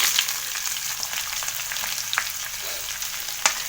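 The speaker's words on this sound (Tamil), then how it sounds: "ஒரு 4 மிளகாய், பச்சை மிளகாய் கட் பண்ணி வச்சுருக்கேன். அதையும் போட்டு வறுத்துக்குவோம்." Sliced shallots and chopped green chillies fry in oil for a beef curry, a steady close sizzle with light crackles and a few soft stirring scrapes.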